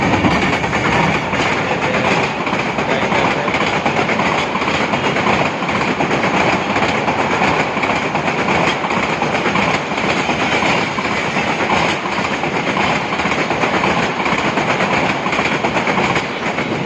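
A train running along a railway line beside a plant nursery: loud, continuous rumble and clattering wheels on track, sustained and close for the full seventeen seconds with no talking.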